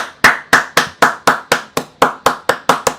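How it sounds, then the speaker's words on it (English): A single person claps hands alone in a room, about a dozen sharp, loud, close claps in a steady, slightly quickening rhythm with brief reverberant tails. "If you clap more quietly and loud and quickly, it actually sounds like there's more people"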